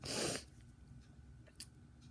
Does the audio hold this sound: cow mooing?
no